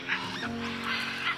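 Scarlet macaws, the national bird of Honduras, give harsh, raucous squawking calls in the wild, several overlapping cries in quick succession, fairly loud and near, with no talking.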